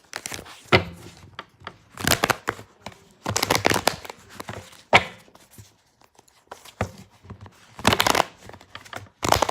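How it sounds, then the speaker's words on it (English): Bursts of papery riffling and tapping as tarot cards are shuffled, in several quick rounds separated by short pauses, close and fairly loud. "I'm going to reshuffle these"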